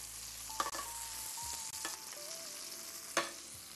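Trout frying in a pan with ginger, celery, thyme and other vegetables, stirred with a spoon: a steady close sizzle under a few sharp scrapes and clinks of the spoon against the pan.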